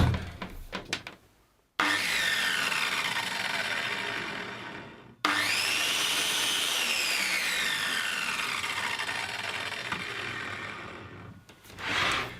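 A track saw starts abruptly without soft start and runs at a loud, steady whine, cutting out once and restarting before winding down, with no talking.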